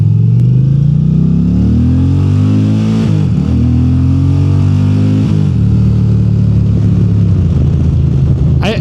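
An Indian Chieftain Pursuit Darkhorse motorcycle accelerates hard and close, its loud engine note climbing through the revs, dropping briefly at two gear shifts, then pulling strongly again.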